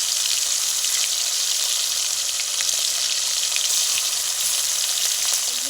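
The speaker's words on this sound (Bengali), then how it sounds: "আড় মাছ রান্নার জন্য কিন্তু কড়াতে মা তেল গরম করে মাছগুলো দিয়ে দিচ্ছে।" Aar fish frying in hot oil in a wok, giving a loud, steady, dense sizzle and crackle that holds without a break, with no voices over it.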